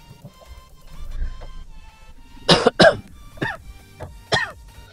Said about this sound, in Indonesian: Maaf ya, sedang batuk.